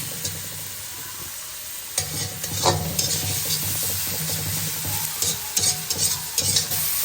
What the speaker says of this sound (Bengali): যে পেঁয়াজ ভাজা হয়ে গিয়েছে, পেঁয়াজ টমেটো